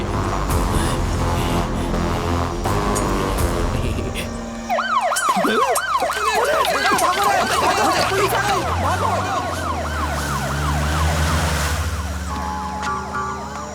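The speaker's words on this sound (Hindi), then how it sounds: "पुलिस नहीं, एम्बुलेंस।" An ambulance siren wails loudly in a rising and falling pattern, starting partway through and continuing over dense, rumbling background sound in a Hindi action movie scene.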